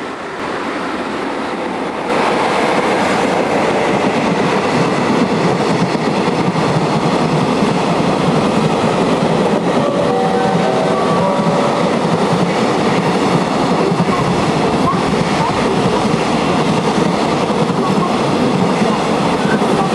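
JR EF66 electric locomotive No. 27 passing a Tokaido Main Line station platform on a deadhead run to Kyoto, a loud continuous rumble of wheels and rail noise rising after a quieter opening and holding steady throughout, with faint squeal tones midway.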